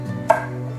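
A single crisp knife chop strikes through garlic scapes on a cutting board, brief and close over a low steady hum.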